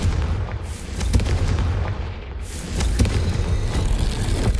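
A Confringo blast spell in a video game sets off booming explosions, heavy rumbling bursts with sharp cracks layered over sustained low roar, loud and continuous throughout.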